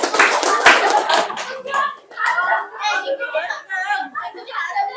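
A group claps through a rhythmic clap routine with children's voices chanting along. An opening flurry of sharp claps gives way to sung or chanted syllables with scattered claps between them.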